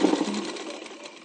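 A sewing machine stitches fabric over piping cord, a steady close whirring run that holds at even loudness from start to finish with no talk.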